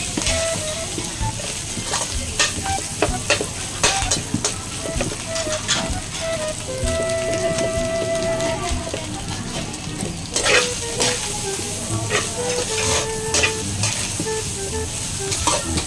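Cassava leaves and sardines stirred in a sizzling pan, a steady frying hiss with scraping spoon strokes running throughout, close and fairly loud, with no talking.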